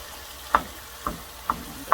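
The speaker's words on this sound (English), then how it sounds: "just keep stirring it around until it gets all the beautiful aromas of the garlic" Garlic, onion and whole spices frying in a pan under a low sizzle, with four evenly spaced sharp scraping taps from stirring, close and fairly quiet, no voices.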